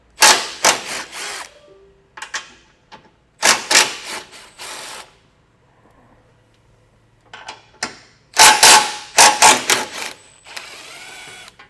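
Impact wrench or power drill loosening 15mm nuts from the rear bumper beam of a 2025 Volvo XC60, in three loud clustered bursts of short whirring pulses separated by quiet pauses and faint clinks.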